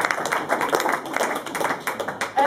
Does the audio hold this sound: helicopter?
no